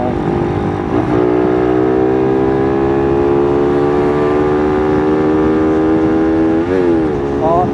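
A loud, steady engine whine from a clutch with worn-out lining, a sustained mechanical drone that rises slightly in pitch, continuous throughout at close range.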